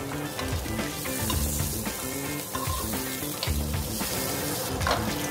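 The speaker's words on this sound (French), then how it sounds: "On commence avec un peu d'huile d'olive. On va laisser chauffer pour un instant." Olive oil heats in a pan for linguine scampi, giving a steady, close sizzle and crackle with light stirring scrapes and no voices.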